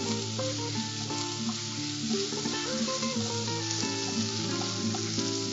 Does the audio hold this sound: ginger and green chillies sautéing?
yes